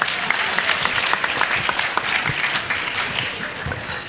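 A room full of people claps steadily and loudly, a dense, even burst of applause lasting several seconds.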